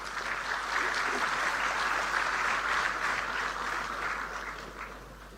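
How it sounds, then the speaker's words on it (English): Steady applause from an indoor audience fills the room at the inauguration of a quantum computing facility at Medha Towers, sustained and moderately loud before tapering off at the end. "A huge round of applause."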